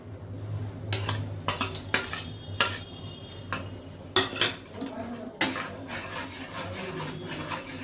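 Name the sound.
stirring white sauce in a pan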